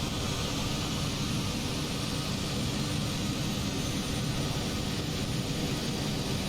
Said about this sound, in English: Let's go on the outside so we can actually listen to the engine again.